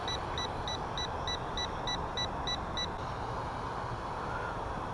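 A JXD 509G FPV quadcopter gives a run of nine quick, evenly spaced high beeps when switching into headless mode, heard over steady wind and motor noise before the beeping stops.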